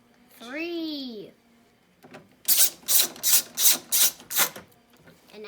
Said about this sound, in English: All right, put our screws in.